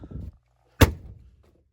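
A single hard thunk as a kitchen HVAC hydro coil unit is banged on, sharp and close, ringing out for about half a second after a brief stretch of low talk.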